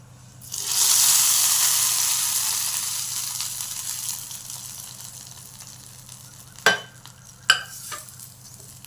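Curry leaves tossed into hot oil for a roasted-gram and coconut chutney tempering burst into a loud sizzle that slowly fades, followed by a few sharp clatters of a spoon or pan.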